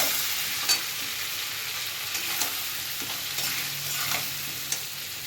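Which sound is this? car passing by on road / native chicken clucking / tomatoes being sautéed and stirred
tomatoes being sautéed and stirred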